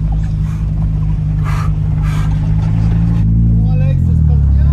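A Renault Super 5 fitted with a GT Turbo engine swap drones steadily and loudly from inside the cabin, its low engine note rising as it revs near the end, with people talking over it.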